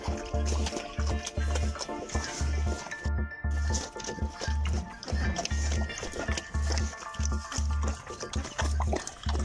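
Small piglets feed from a trough of food scraps mixed with hot water, giving wet slurping, slopping and chewing sounds in a repeating rhythm close to the ear.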